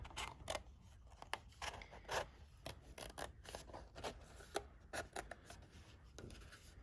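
Scissors snipping through a paper stencil for a graffiti tag, a run of quiet, close, crisp cuts in irregular rhythm with soft paper rustle between them.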